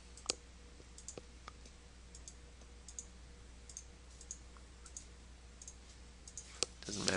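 Sharp computer mouse clicks land one after another, some spaced apart and some in quick bursts, faint and close against a steady low hum, with a louder cluster of clicks right at the end.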